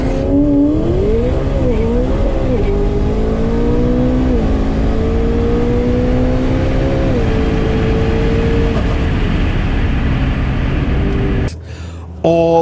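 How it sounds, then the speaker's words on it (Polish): Drag racing cars, including a BMW, launching down a quarter-mile strip at Santa Pod, a loud sustained engine roar rising in pitch as they accelerate away, then cutting off abruptly near the end. "Oh, problems for the BMW. Thomas gets about, what, 20 feet"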